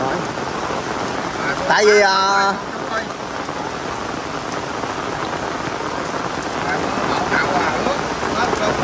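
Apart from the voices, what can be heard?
heavy rain pouring at a grave site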